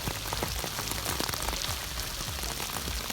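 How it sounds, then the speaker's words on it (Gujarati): Steady rain patters close by on a surface during a wet outing near a dam in Gujarat, a dense continuous crackle of drops with no talk. "હા મસ્ત મજાનો વરસાદ"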